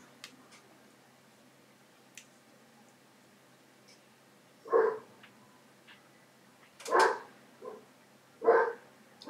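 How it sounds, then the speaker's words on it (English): A dog barks three times at moderate distance, spaced a couple of seconds apart, during a session of the Dune: War for Arrakis board game, with faint ticking in the background. "She's barking."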